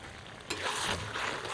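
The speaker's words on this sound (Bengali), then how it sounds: "নেড়ে নেড়ে খুন্তি দিয়ে মিশিয়েও দিই" Goat mutton pieces with garam masala and roasted cumin powder sizzle and fry in a kadai while a spatula stirs them, a steady close frying hiss that swells after a quiet start, with scraping stir sounds.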